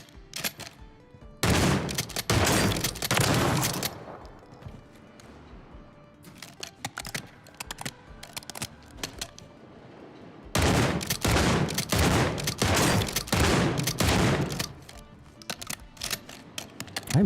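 Shotgun with a choke fired in a video game: two long bursts of loud, rapid, overlapping blasts and mechanical clacks, separated by a quieter stretch of faint clicks and handling sounds, with no voice.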